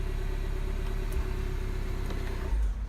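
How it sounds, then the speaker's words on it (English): A BMW car engine idles steadily at close range, a low constant rumble with a brief thump near the end, no talk. "And just to start the car, just to make sure,"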